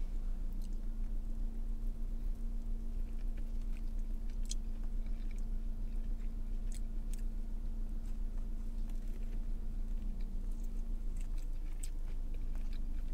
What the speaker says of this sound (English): Let's try the corn.